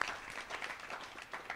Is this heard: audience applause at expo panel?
yes